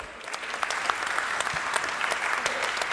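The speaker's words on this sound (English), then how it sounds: "Welcome them with a short applause." Brief audience applause at an Africa space leaders round table welcoming speakers to the stage, a steady dense patter of many hands at moderate loudness throughout.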